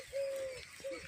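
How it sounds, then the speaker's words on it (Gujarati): Peacocks call out near farm fields in two clear tonal cries, a long one followed by a shorter one, moderately distant and alone over light ambient noise. "મોર કેવા બોલે છે મોર તો શોખ બોલતા"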